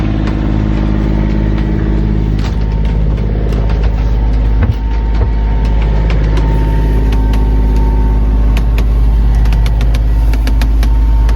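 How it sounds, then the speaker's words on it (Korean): Sailboat's auxiliary engine runs steadily at sea, a continuous low idling drone with faint clicks and rattles over it, no one speaking. "지금 저희도 엔진을 켰고요"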